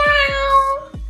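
A person imitates a hungry cat during a no-hands food challenge, giving a drawn-out, high, wavering meow that is loud and close, with a couple of sharp downward slides.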